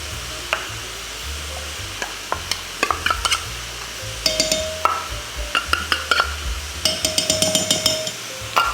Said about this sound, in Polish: Mieszamy ten sosik.